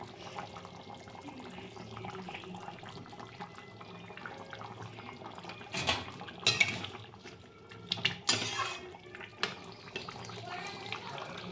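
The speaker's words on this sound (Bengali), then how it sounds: "আমি এবার ঢাকনাটাও তুলে এবার দেখবো মাংসটা কতদূর হয়েছে" Metal pot lid lifted and clattering on a pot of cooking meat curry, several sharp clinks and scrapes among steady kitchen background, with a voice talking nearby.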